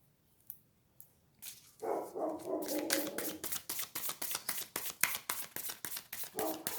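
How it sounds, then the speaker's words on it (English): A dog barks repeatedly outdoors, a rapid run of sharp, fairly loud barks with short gaps, preceded by a few isolated thumps. "Sorry, my dog is barking out there."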